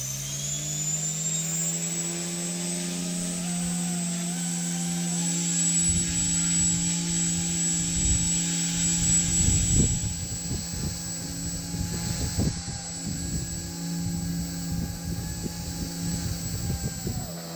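Blade 130S RC helicopter spinning up at high headspeed on a test flight, a steady high-pitched rotor and motor whine that holds loud and continuous, with bursts of rough low-end buffeting through the middle and no talking.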